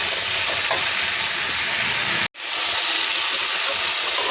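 A handful of fresh coriander leaves frying in a pan for chicken bassaaru gives a steady, loud, dense sizzle that runs throughout, broken by one brief dropout midway, with no talk.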